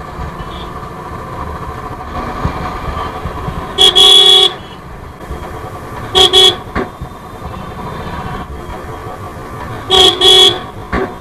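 Car horns honk in heavy city traffic, three loud bursts standing out over a steady engine and road rumble, each a short cluster of toots.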